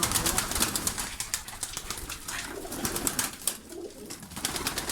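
Pigeons of a breeding flock coo inside their coop, soft repeated calls with brief bursts of wing flapping, fairly faint and without talk.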